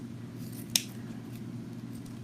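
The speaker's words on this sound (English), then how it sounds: "And I'm going to cut these" Scissors make a single sharp snip through floral stems, cut at an angle while arranging flowers for a design, a crisp close click over a steady low room hum with no talking.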